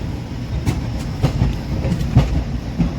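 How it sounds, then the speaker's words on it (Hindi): The Gomti Sagar Express rolls into Kanpur Central station, a loud, close rumble of rail cars with repeated rhythmic wheel clacks over the joints and no voices. "तो ट्रेन का हमारे कानपुर सेंट्रल की तरफ अराइवल हो रहा है"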